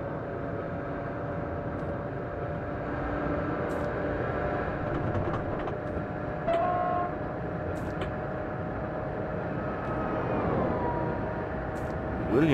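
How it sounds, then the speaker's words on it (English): An ICE 2 express train accelerates in Train Simulator 2014, giving a steady, droning engine and rolling hum with faint tonal whines. It runs continuously and fairly evenly throughout. "Pretty good acceleration this train."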